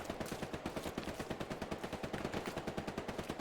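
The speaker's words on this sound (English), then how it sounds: "There's a very naughty little MG there." Rapid, steady machine gun fire rattles from an MG position in a Hell Let Loose tournament match on Hill 400, an even burst of many quick shots at moderate distance with no voices over it.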